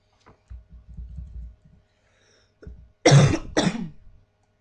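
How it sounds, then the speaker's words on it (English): A person coughs twice in quick succession, close and loud, after a stretch of quiet soft clicks and low thumps from a computer desk. "Bit of a cough going on."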